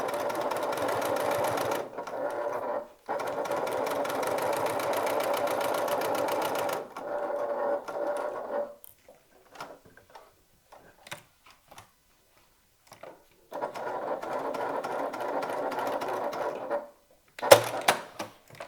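A sewing machine stitches a top handle bag in long, steady whirring runs, pausing in silent gaps and short stop-start bursts before picking up again close by.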